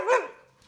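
A wet, muddy puppy gives a single short bark, fairly close but soft, trailing off into quiet.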